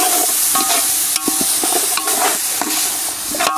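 Ginger-garlic paste being stirred in a hot frying pan for village-style dum chicken biryani, with a loud, close sizzle and a rhythmic scrape of a ladle pushing through it about every half second.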